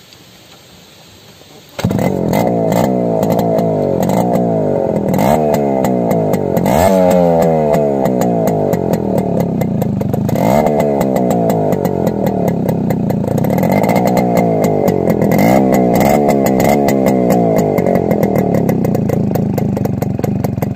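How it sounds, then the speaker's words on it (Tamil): A TVS Max100 motorcycle fitted with a Yamaha RX100 silencer starts up after a short quiet stretch and runs loud and close, its two-stroke exhaust rising and falling through repeated revs over a steady idle. "நம்ம வண்டியோட பீட்டையுமே நான் போடுறேன்"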